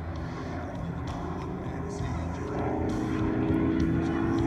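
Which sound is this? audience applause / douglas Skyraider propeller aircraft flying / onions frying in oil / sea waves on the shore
douglas Skyraider propeller aircraft flying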